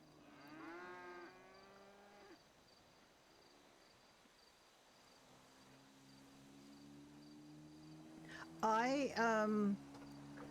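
A cow mooing in the video game GTA V: a long low moo near the start and a louder, drawn-out bellow near the end, over a constant chirring of crickets.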